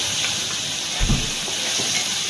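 Onion and tomato hit hot tempering oil already seasoned with garlic, mustard seeds, cumin and green chilli, giving a steady broadband sizzle and hiss with a brief louder burst as they drop in.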